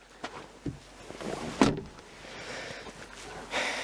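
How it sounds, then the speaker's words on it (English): Car doors thunk shut at a rainy campground, one firm close standing out among smaller knocks and rustles, fairly near over steady background noise. "Can you close those doors?"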